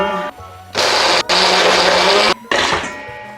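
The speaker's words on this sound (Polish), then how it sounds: "I do tego wrzucę taką małą do kawy łyżeczkę białej gorczycy i to wszystko zblenduję." Blender whirring through tomato and a small spoonful of white mustard seeds, loud and close in two long bursts with brief stops between them, and quieter motor sound before and after.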